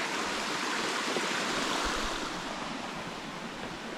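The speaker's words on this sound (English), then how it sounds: "It's a pretty little stream. Couple little waterfalls coming down." A small stream with little waterfalls tumbles beside a hiking trail on the Benton MacKaye Trail, a steady close broadband rush of flowing water with no voices.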